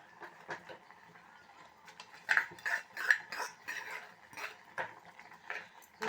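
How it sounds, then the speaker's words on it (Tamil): Vegetable kootu with tempering is stirred in a pan, with irregular soft scrapes and clinks of a ladle against metal, close and fairly quiet. "எல்லாத்தையும் ஒன்றா சேர்த்து நம்ம நல்லா கிளறி விட்டுடலாம்."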